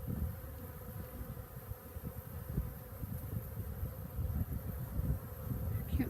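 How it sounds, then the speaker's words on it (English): A dense, steady hum of Saskatraz honey bees swarms close by while a package is installed into a hive, continuous low buzzing with small swells in loudness and no talk. "Oh, these bees are gentle."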